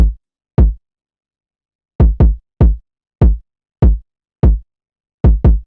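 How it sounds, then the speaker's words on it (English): A punchy kick drum sample from an FL Studio hip-hop beat, short deep thumps played alone in a sparse, uneven rhythm, about a dozen hits, some in quick pairs, with silence between. "Next up we have the identical kick, which sounds like this."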